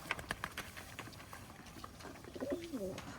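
Local desi pigeons coo softly in low, rolling calls toward the end, after a few scattered soft pats and rustles.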